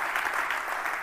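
Congregation at a church service applauding together, a dense, steady wash of many hands clapping close by, filling the whole moment without any voice over it.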